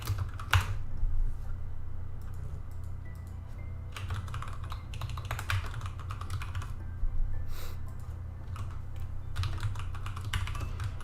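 Close computer-keyboard typing of C++ OpenGL code, clusters of soft clicking keystrokes coming in uneven bursts over a steady low hum, with no one talking.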